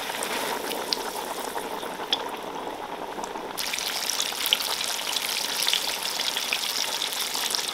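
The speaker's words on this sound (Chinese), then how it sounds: "然后我们就把那个鸡腿给它放进来炸" Large chicken drumsticks deep-frying in oil over low heat, a continuous bubbling sizzle close by that grows noticeably louder partway through, with small pops scattered over it.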